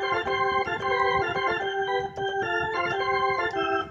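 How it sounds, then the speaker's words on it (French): Plain organ voice on a keyboard playing sustained chords and shifting notes, moderately loud and steady, with no voices. "Là c'est le son de l'organe simple."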